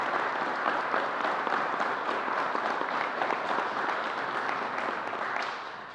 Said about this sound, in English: Let's give the NFTA a round of applause.